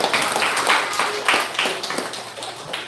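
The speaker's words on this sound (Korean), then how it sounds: "우리 박수로 우리 환영할게요." Church congregation clapping during a Sunday morning service to welcome a new member, a children's welfare teacher joining with her two sons; moderate, steady applause from a room of people, close and sustained for a few seconds.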